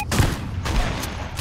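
Dense, continuous bursts of gunfire in the video game Fortnite, loud and rapid with several sharper reports standing out, no voices over it.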